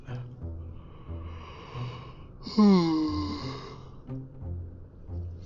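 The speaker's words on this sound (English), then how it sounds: "Pardon the yawning." A person yawns loudly once, a drawn-out breathy groan rising then falling, amid quieter rhythmic breathing and soft vocal sounds close to the microphone.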